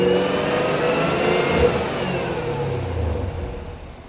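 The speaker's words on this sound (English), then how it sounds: "as far as the supercharger noise, we'll see if we can do this" A 2018 Camaro ZL1 fitted with a cold air intake revs with a mid-pitched engine drone, and a thin supercharger whine rises and falls with the throttle, close and fairly loud with no talking.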